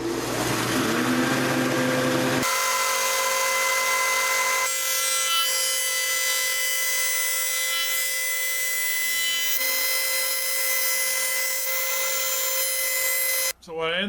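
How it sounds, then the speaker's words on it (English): A planer skims wooden trim boards smooth and to an even thickness, its loud steady machine whine and cutting roar running continuously with shifts in tone as boards feed through, ending in a brief drop near the end. "I'm gonna run them all through a planer. Just skim them to where they're all smooth and all the same thickness."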